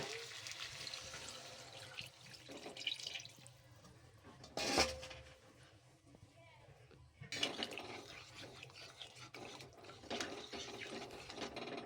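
Water poured into a simmering tomato and potato curry in a pan, a steady splashing, gurgling pour that swells twice, close and fairly quiet, with no one speaking.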